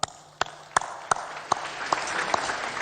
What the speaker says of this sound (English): I think we deserve a clap for Africa